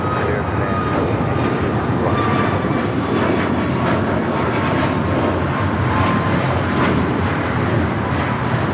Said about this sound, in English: Southwest Airlines 2553 taking off to Dallas Love Field on the MAX 8.